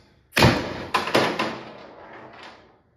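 Tippmann TiPX paintball pistol running on a 12-gram CO2 cartridge fires a sharp, loud shot followed by three more quick pops, each trailing into a hissing decay.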